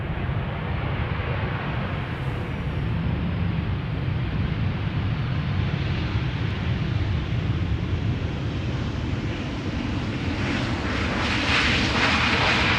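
KLM passenger jet arriving at Amsterdam Schiphol Airport, a continuous loud engine roar with wind noise, rising slightly toward the end, with faint talk underneath.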